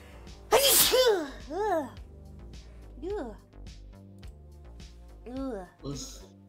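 A single sharp, loud sneeze from a gaming streamer bursts out near the start, followed by several drawn-out vocal sounds and voice fragments.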